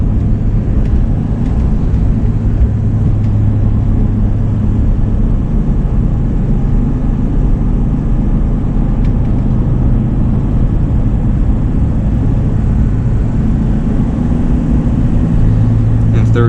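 A Volvo 242 GT engine pulls steadily in third gear while climbing a grade, a continuous low drone with road and wind roar that holds level throughout and never drops away.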